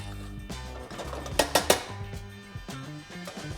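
A spoon stirs sliced leeks with vinegar and a tablespoon of sugar in a pot, giving a quick cluster of close metallic clinks and scrapes against the pot over a quieter background, with no talking.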